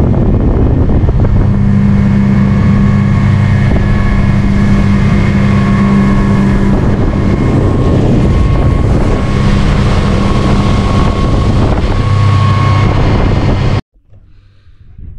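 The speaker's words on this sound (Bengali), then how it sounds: "তার মধ্যে স্পিড বোটে আমি ভেসে বেড়াচ্ছি।" A speedboat cruises across a clear blue lake, its engine a loud, steady roar with wind buffeting close to the microphone, holding throughout before cutting off abruptly near the end.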